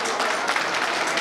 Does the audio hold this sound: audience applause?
yes